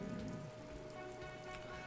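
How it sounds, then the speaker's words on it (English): Rain falls steadily in the video game Disco Elysium: The Final Cut, a faint, even patter with no break. "It's raining, it's pouring, my pants are soaking."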